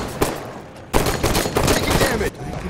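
Bursts of sci-fi gunfire from the Halo 5 video game rattle out in two dense volleys, a short burst then a longer sustained stretch, loud and close, with in-game voices mixed in.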